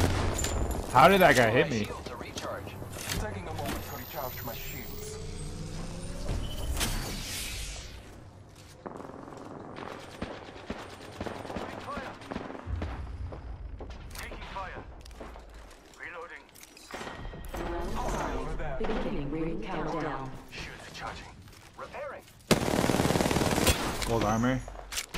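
Bursts of gunfire from the Apex Legends battle royale video game, rattling in clusters amid other game effects, with players talking over the action throughout.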